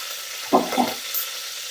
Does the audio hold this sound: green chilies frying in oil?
yes